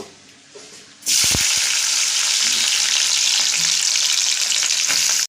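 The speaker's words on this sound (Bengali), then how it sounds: "তেলটা গরম হয়ে গেছে, আর মাছটাকে আমি ভালো করে দিয়েছি" Dried fish drops into hot oil in a pan and erupts into a loud, steady frying sizzle that holds for several seconds, preceded by a quieter moment and a few thuds as it goes in.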